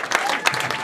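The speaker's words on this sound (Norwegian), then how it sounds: "Fortjener en applaus det også." Concert audience at a Christmas concert applauding, a dense burst of many hands clapping in a hall, loud and continuous, with a voice speaking over it.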